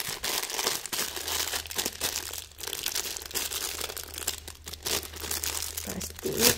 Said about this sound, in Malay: plastik ni kita buka